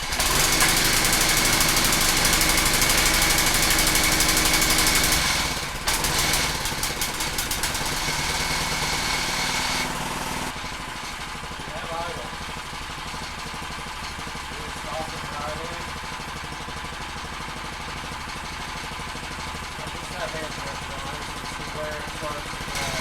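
A Predator small engine starts and settles into a loud, steady idle with dense mechanical hum, dropping to a quieter, even idle after the first several seconds; no talking is heard.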